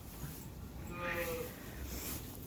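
Sheep bleat softly inside a barn, a faint drawn-out call over low background noise.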